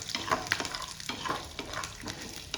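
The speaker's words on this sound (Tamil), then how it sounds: "பச்சை மிளகாய், பூண்டு, சின்ன வெங்காயம், முந்திரி பருப்பு, 2 பொட்டுக்கடலை இதெல்லாம் போட்டு நல்லா வறுத்துக்கலாம்." Green chillies, garlic, shallots and cashews sizzle in coconut oil, stirred with a ladle that scrapes the pan in quick, dense bursts over a close, continuous fry.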